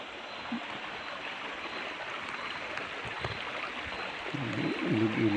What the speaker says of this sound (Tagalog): Ilog-ilog dito.